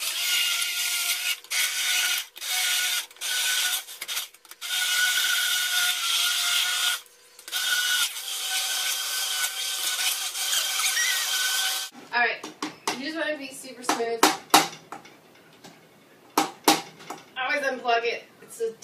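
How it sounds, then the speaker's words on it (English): A motorized immersion blender whirs steadily and loudly in a pot of dip for about twelve seconds, then cuts off as a person starts talking over clattering kitchen sounds. "I'm putting it in my pot because I have an immersion blender."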